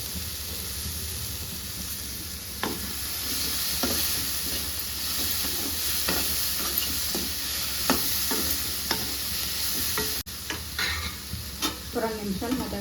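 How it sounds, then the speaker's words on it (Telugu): Chutney ingredients sizzling in a pan over a low flame, steady fizzing with scattered spoon stirs and taps throughout. "సన్నని మంట మీద మగ్గించుకోవాలి."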